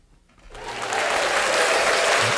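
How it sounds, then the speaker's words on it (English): Applause on a talk show swells in after a quiet moment, a crowd clapping that rises within half a second into a loud, steady, even wash. "I get applause."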